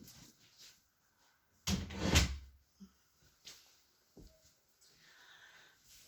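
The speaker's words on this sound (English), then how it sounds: "Can you close the door," An indoor door swings shut with a dull thud and brief rattle, followed by a few smaller knocks and soft handling noises in an otherwise quiet room.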